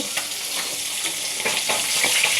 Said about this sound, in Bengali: নিয়েছি বাটা মাছ, খুব বেশি ভাজলাম না।